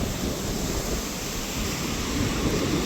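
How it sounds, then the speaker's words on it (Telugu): Ocean waves roll in at a beach in Vizag with a steady, close roar of surf and wind-like hiss, heard alone without talk. "అలల శబ్దం"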